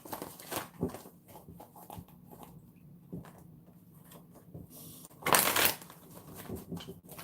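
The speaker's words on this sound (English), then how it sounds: "Let me shuffle again" Soft, close tarot card shuffling with brief papery riffles, including a louder burst near the end, in an otherwise quiet room.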